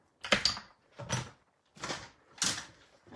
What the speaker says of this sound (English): Sorry about the noise while I bring out all of the stamps out here.